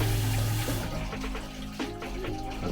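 Hot water rushing steadily from a tap fed by an off-grid ThermoMate tankless water heater, a strong continuous splashing flow that sounds close and loud throughout.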